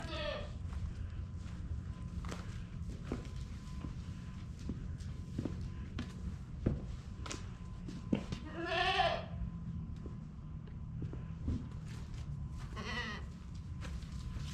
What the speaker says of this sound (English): It's a goat farm.